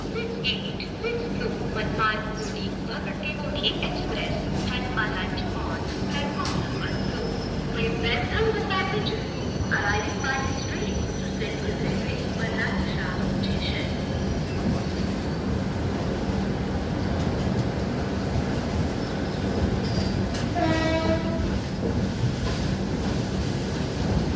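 Steady roar of the Telangana Express passenger train rumbling along the tracks toward Hyderabad, constant and close, with people chattering in the background throughout.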